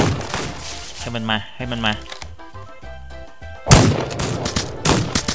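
Gunfire in the Western-themed video game This Land Is My Land, with loud bursts of shots at the start and again near the end, while someone talks excitedly over the action in between.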